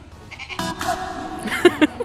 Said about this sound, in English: One of them was the farmer's billy goat.